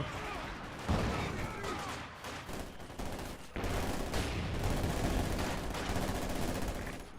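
M1919 machine guns fire in Company of Heroes 2 as dense, sustained bursts mixed with other battle gunfire and explosions, loud and continuous, while a caster talks over the action.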